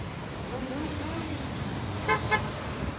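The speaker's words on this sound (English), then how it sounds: "There's a honk of support." Two short car horn honks sound close together near the end, passing a street protest, over steady traffic rumble and a faint voice in the background.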